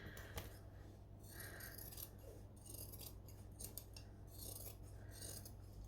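Loose, slightly blunt sewing scissors snipping through fabric and lining for a saddle bag, a quick series of close, crisp cuts with raspy scraping between them and no talking.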